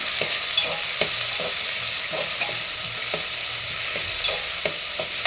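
Onions sauté in oil with a dense, even sizzle, while a spoon scrapes the pan in regular strokes about every half second.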